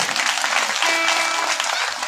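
An audience applauds at a village gathering with local officials present, steady dense clapping that holds for the whole stretch at a moderate level.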